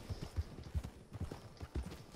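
Horse hooves clip-clop in a video game, a quick, close, fairly soft rhythm of paired thuds repeating steadily for a couple of seconds.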